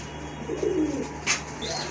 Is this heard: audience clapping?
no